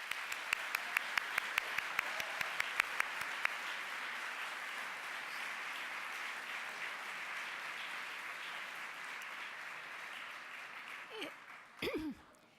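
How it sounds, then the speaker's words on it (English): Sustained audience applause at a charity gala, a dense, steady wash of clapping that holds for about eleven seconds, with a few louder sharp claps near the start, then fades as a voice begins at the end. "Please join me in applauding."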